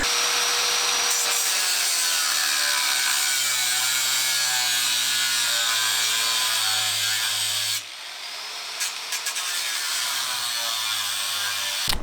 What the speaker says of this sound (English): As I'm grinding the muffler, look what happens.